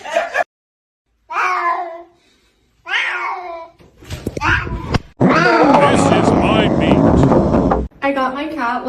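A cat meows loudly and close by in a string of drawn-out, wailing calls, some short and some long, with a caterwaul-like stretch near the end and brief background noise between calls.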